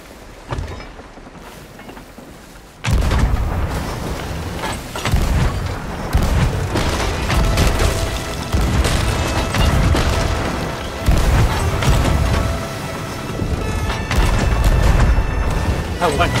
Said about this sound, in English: Your cannons are going right by my head.